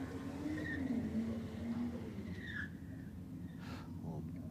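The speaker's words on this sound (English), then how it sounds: "BA Falcon, nice, sharp little burnout" Ford Falcon sedan doing a short, sharp burnout at a drag racing event, tyres squealing and engine revving at a distance beneath steady commentary from someone talking throughout.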